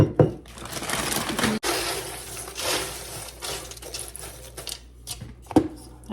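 Two cups of mini pretzels tipped into a bowl of homemade 1960s-style Chex Mix, a close, dry rattling and crunching pour with clattering bursts and a sharp knock partway through, no talking.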